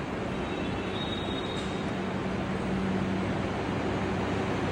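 A Kolkata metro train pulls into a station with a steady, loud rumble and broad rushing noise that holds for several seconds, with no talking.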